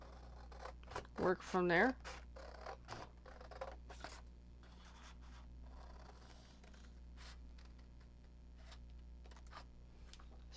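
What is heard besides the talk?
scissors fussy cutting paper tombstones for a Halloween card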